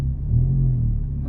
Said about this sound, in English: Give it a little bit of gas, not a lot.